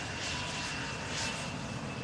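An Embraer 175 jet airliner at Amsterdam Schiphol gives off a steady, broad engine roar that sounds fairly distant and even throughout.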